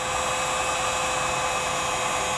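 A heat gun blows hot air over vinyl wrap film on a single-cab truck, a steady, unbroken roaring whoosh held at constant loudness throughout.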